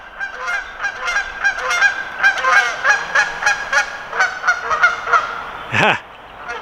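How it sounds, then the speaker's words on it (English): A flock of geese honking repeatedly and loudly nearby as they come in to land, the calls overlapping in an irregular chorus before a final louder honk and quiet. "you hear the geese?"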